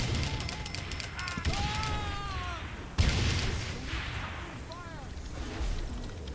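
A grenade in Saints Row The Third goes off with a heavy boom amid ongoing gunfire and chaotic combat noise, a second sharp blast landing midway through.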